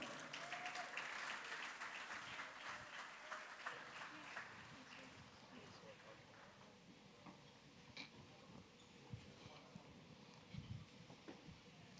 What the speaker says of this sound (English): ladies and gentlemen, round of applause for Mr. Thaddeus Antoine.